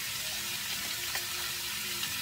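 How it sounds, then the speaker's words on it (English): Thinly sliced pork sizzles in a hot pan, a steady, close, crackling hiss with no break. "Putting the pork on the side. Woo! Sizzle."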